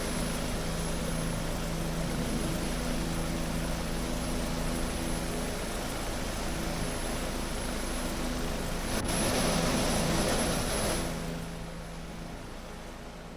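A Bell 407 helicopter flying over the Grand Canyon, its steady rotor and turbine drone filling the cabin continuously, swelling slightly near the end before easing off, with no talk.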